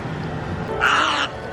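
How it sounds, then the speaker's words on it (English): Crows cawing outdoors near the Pacific Point area of SeaWorld Orlando, one loud harsh caw stretching over the middle of the short stretch above a steady background murmur. "watch out for the birds. These freaking things."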